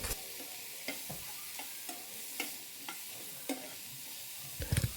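Mushrooms sautéing with salt in a pan, a soft continuous sizzle with occasional light utensil taps and a brief clatter near the end, fairly quiet and without speech.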